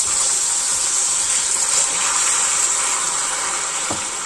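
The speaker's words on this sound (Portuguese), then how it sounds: "Então vamos jogar um pouquinho de água." Water poured into hot caramelized sugar in a pan for stovetop pudding, a loud continuous hissing, sizzling rush lasting throughout, close up with no talk.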